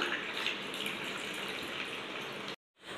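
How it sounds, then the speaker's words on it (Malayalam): Mint lemon juice poured into a glass, a steady close trickle and splash of liquid that runs evenly before stopping abruptly, with a little faint noise after. "പുതിനയിലെ ലെമൺ ജ്യൂസ് നമുക്ക് ഒരു ഗ്ലാസ്സിലേക്ക് ഒഴിച്ചു കൊടുക്കാം"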